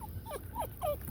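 A pet dog whimpering from close by on a lakeside canoe outing, giving three or four short, high, wavering whines in quick succession.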